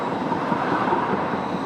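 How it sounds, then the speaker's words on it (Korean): A low-noise tram runs on a line through a German housing complex, a steady, loud, close rolling rumble and hum with no voices. "대중교통 이용을 극대화하기 위해 저소음 트램 노선을 주택단지 안에 설치했는데요"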